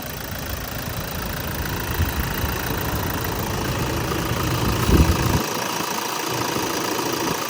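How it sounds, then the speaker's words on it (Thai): A 2.5-litre turbo diesel engine in a Toyota Vigo pickup idles steadily with a low, rattly knock, then cuts out abruptly near the end, leaving quiet. "มาฟังเสียงเครื่องก่อนดีกว่า"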